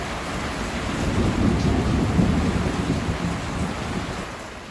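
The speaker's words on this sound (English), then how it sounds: "It's pouring down with rain, the wind is howling, and we've got lightning and thunder all over us." Heavy rain pours down on a sailing boat at sea with a low, rolling rumble of thunder and howling, gusting wind, loud and continuous throughout.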